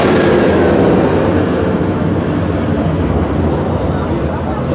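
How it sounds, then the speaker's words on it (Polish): A low-flying airplane passes overhead in Corfu, a loud, broad engine roar that fills the whole stretch at near-constant strength, close and dominating everything else. "Samolot na dotknięcie ręki."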